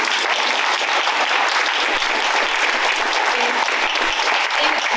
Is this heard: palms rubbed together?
no